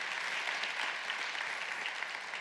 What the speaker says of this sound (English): We want to give you a round of applause because you're here.